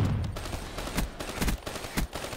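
Shotgun blasts in Black Ops 3 multiplayer: several sharp, fairly quiet booms spaced about half a second apart over a steady bed of game noise.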